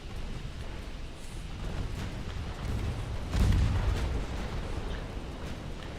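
Naval main guns fire in the battleship game Ultimate Admiral Dreadnoughts, a low rumbling boom that swells midway through over a continuous bed of distant artillery thunder.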